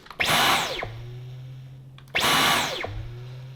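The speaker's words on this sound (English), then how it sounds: "So this is the thing we're using for the vacuuming" Two loud bursts of a cordless handheld vacuum cleaner whirring up to speed, each winding down with a falling pitch before a steady motor hum resumes.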